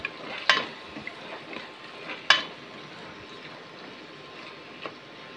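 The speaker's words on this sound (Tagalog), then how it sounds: "Bayaan lang po natin siya kumulo ng bahagya." A creamy tuna carbonara sauce bubbles and sizzles softly in a pan. A couple of sharp clinks of a utensil against the pan stand out over the low cooking hiss.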